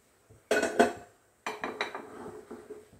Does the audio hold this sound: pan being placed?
yes